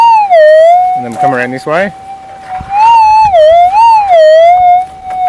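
A metal detector fitted with a new Coiltek coil, searching for gold nuggets, gives a loud, wavering electronic tone that swells and dips as the coil sweeps, with someone briefly speaking partway through.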